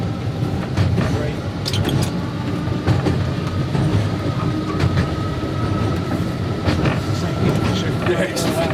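Heritage tram on the Seaton Tramway running along its rails, a steady rolling rumble with faint clicks and squeals from the track, continuous throughout with occasional voices in the cab.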